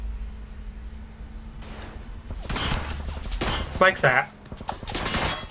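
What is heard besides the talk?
gunshots from PUBG video game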